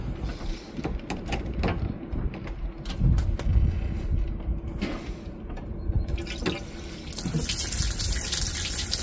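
Water runs from a tap near a lighthouse site in Denmark, a steady splashing flow that stays moderately close. It swells and shifts as the stream is handled and ends with a brighter hiss, with no talking over it.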